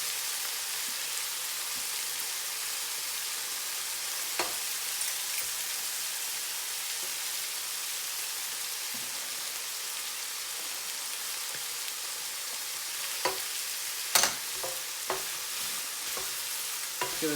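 Meat sauce with garlic fries in a pan with a steady, even hiss like light rain, broken by a few sharp clicks and scrapes as a utensil stirs it.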